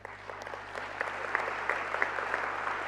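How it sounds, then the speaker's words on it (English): Audience applause at a peace convention in Paraguay, a steady spread of many hands clapping at moderate volume with a few sharper claps standing out, heard somewhat distant in a large hall. "could we give them a round of applause?"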